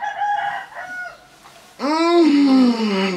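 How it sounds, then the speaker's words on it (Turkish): Roosters crow close by inside a home: a fainter call at first, then a loud, drawn-out cock-a-doodle-doo that fills the second half. "Horozlar nereden geldi?"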